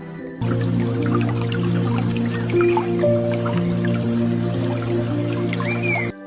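Water trickles and drips steadily from washed sesame seeds with soft wet squishing, a close, continuous draining sound over a low background hum.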